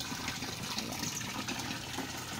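Water poured over a man being bathed, a continuous splashing gush of liquid running over skin and onto a floor, close and steady with no talk.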